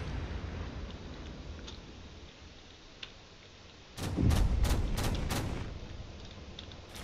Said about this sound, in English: The cannon is getting a little bit closer with every shot.